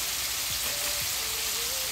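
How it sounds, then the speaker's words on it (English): Steady, dense sizzling of pork ribs frying in hot oil, a constant crackling hiss with faint low clinks underneath. "I'm still frying my batches"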